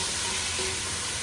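Green tomatoes dropped into a hot pan with oil, a dense, steady crackling sizzle, close and loud with no talk.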